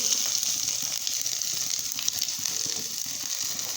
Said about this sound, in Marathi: मस्त तडतडत आहे फोडणी